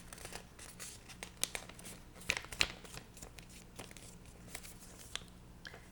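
A sheet of paper is folded in half, soft crinkling and rustling with a few sharp creasing crackles, close and quiet with no talk.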